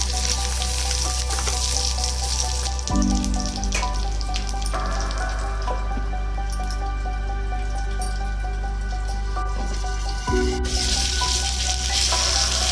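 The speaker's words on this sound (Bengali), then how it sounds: "আরেকবার ঢাকা দিয়ে একটু টমেটোগুলোকে সেদ্ধ করে নেবো" Tomatoes steaming under a lid in a covered pan give a steady, soft hiss with a low, constant hum beneath, continuing evenly throughout without pauses.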